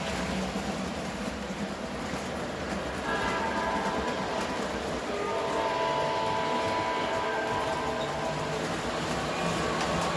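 An Illinois Central toy model train rolls along its track past reed switches, a steady close rumble and clatter of wheels that holds for the whole stretch, with faint thin tones riding above it.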